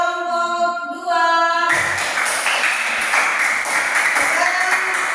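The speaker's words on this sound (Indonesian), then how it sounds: "Iya, tepuk tangan buat kelompok 2." A primary school class breaks into clapping for one student group, a busy, close burst of many hands that carries on for several seconds after a short ringing tone.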